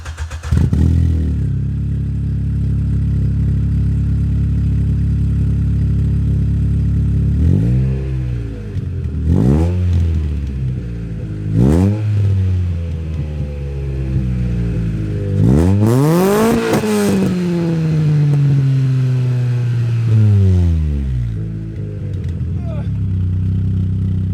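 A VW Golf 2 GTI swapped with a 2-litre ABF engine starts up and is revved in several loud, close blips, each climbing and falling, with one longer, higher rev near the end over a steady idle.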